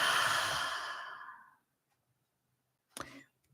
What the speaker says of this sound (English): exhaling out